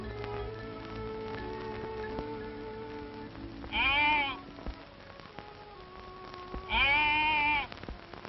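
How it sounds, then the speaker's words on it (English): Sheep bleating: two loud, drawn-out bleats about three seconds apart stand out over a steady low background hum in an outdoor scene. "You stay away from those sheep, understand?"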